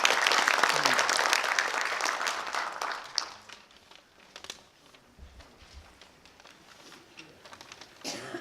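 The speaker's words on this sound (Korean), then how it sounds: "큰 박수 부탁드립니다." Audience applause at a cinema event fills the opening seconds, dense and loud, then thins into scattered claps and fades to quiet rustling before a brief burst near the end.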